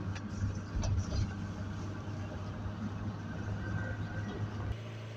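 A Nissan NV300 van's diesel engine idles during DPF regeneration with a steady low hum and mild rumble, heard fairly close and continuous before cutting off abruptly near the end, with no talking.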